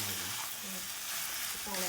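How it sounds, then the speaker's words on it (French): Pasta with crème fraîche being stirred in a hot pan, a continuous broadband sizzle with faint scraping, close and even throughout, with a brief tonal sound near the end. "Je suis en train de mélanger les pâtes."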